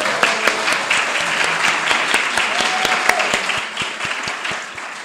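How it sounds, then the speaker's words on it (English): An audience at a book presentation in Los Angeles gives a short round of applause for the authors, with steady clapping that fades slightly at the end. "let's have a round of applause for all these great authors"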